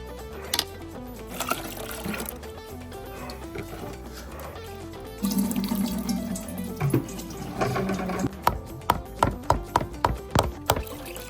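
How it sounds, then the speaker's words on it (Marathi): Freshly ground maize paste is washed under running tap water, with liquid sloshing and trickling close by, some knocks against a container, and a burst of quick rhythmic splashes near the end. "आता ह्याला स्वच्छ धुवून घेऊ"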